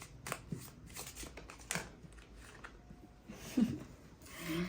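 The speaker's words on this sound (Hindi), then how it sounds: "ये कार्ड एक एक्चुअली 2 कार्ड्स हैं, तो मैं फिर से शफल करूंगी।" A deck of tarot cards is shuffled by hand in quick, soft riffling and sliding bursts, close and fairly quiet, with brief pauses between rounds.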